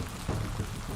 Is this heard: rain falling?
yes